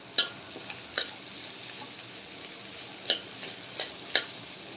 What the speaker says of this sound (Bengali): ভাজিটা আমি নাড়াচাড়া দিয়ে দিই।